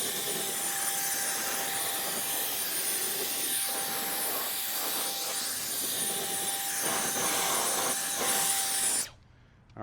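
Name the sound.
air blower drying car engine bay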